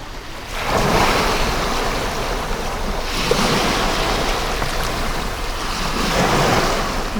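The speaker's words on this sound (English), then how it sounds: "I see the ocean now from your viewpoint." Ocean waves roll continuously onto the shore, with a steady, loud wash of surf and wind noise over the microphone and no voices.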